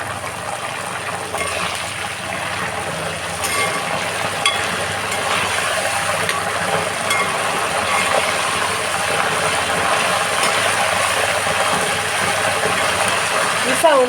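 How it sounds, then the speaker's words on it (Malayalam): Jackfruit chips fry in hot oil after a splash of salt water. Dense, loud crackling and popping continues steadily throughout, with some talk underneath. "ഈ സൗണ്ട് പൊട്ടലൊക്കെ കഴിഞ്ഞ്"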